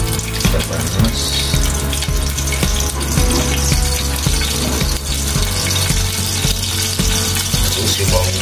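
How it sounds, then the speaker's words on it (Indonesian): Lemongrass dropped into about two tablespoons of hot oil in a pan for a squid and clam pindang soup, a loud, steady, dense sizzle that fills the whole stretch without letting up. "udah saya kasih minyak kira-kira 2 sendok makan, dan langsung panas saya kasih serai ya"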